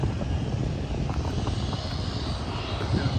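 A Douglas A-26 propeller airplane flies past with a steady, loud engine drone and broad roar, heard alone without talk.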